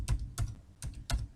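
Fingers type a spreadsheet formula on a computer keyboard: four distinct, close keystrokes in quick succession, each a crisp clack, with no voice heard.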